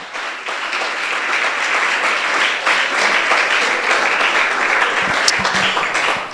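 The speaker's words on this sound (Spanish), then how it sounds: "démosle el aplauso entonces al Maestro de todo corazón" Church congregation applauding together during a Spanish-language sermon, a steady dense wash of clapping that holds evenly for several seconds with no talk over it.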